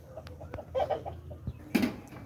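Farm chickens cluck close by in short, irregular bursts, with a louder squawk near the end and light rustling noises around them.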